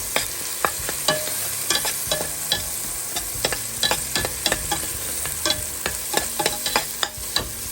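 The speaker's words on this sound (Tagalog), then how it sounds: "medyo naluluto na ang kamatis" Tomatoes sauté in a pan with a steady sizzle, while a utensil scrapes and clicks against the metal in frequent irregular stirring strokes, close and clear.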